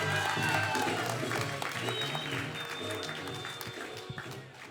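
Applause rises from a comedy show crowd as a comedian is introduced, fairly faint and slowly fading, with a voice over it at the start.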